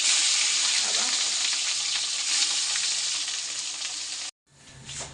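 Fish frying in hot oil, a loud, dense close sizzle that continues steadily before cutting out abruptly, then resumes more faintly for a moment.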